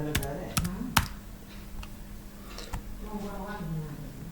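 Keystrokes clatter on a computer keyboard while text is entered into a Microsoft Word document, a few sharp clicks early on and then lighter, scattered tapping beneath a voice talking steadily throughout.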